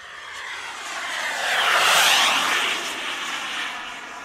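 An AEROFOAM MB-339 model jet with a LintonJet X80DX turbine at 40% throttle passes by, its steady high whine swelling as it nears, peaking mid-pass, then easing away without fading out.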